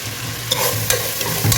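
Food for chicken biryani fries in a pan, a short burst of sizzling with a few scraping stirs of a spoon against the pan, close and fairly loud.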